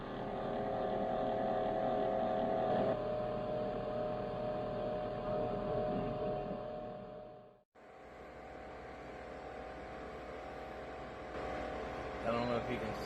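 A food dehydrator hums steadily while drying beef jerky, a constant close motor drone that cuts out briefly midway and then resumes at the same level, with a faint click near the end.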